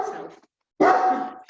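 Dog barking indoors during an online talk, two close, loud barks separated by a brief silence, heard alone without speech.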